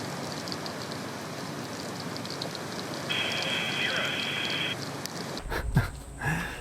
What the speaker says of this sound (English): So the rain never stopped.